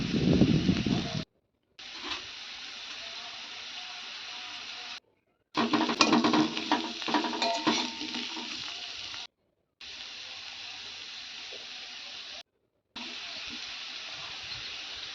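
Spices fry in oil with potatoes, a steady, close hiss broken by short silent gaps, with a louder stretch of scraping, stirring crackle in the middle.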